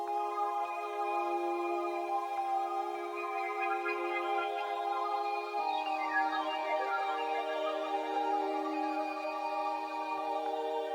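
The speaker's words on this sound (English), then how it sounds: "Then I made this automation so it's going down and up the notes, but still staying in key" Sustained synth lead in a trap production, its pitch automated to glide down and up between notes while staying in key, over held harmonic tones; steady and fairly loud throughout, with no talking.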